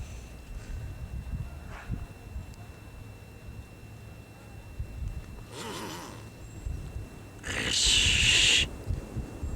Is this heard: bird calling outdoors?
yes